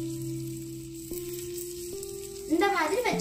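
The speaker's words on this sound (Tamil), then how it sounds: "இனி இத ஒருக்கே திருப்பி போட்டு ரோஸ்ட் பண்ணி எடுத்துக்கலாம்" A sandwich sizzles and crackles in a hot pan as it is flipped and roasted, with steady frying hiss, a low steady hum, and a louder burst of crackling near the end.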